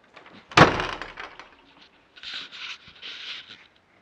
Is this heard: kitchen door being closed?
yes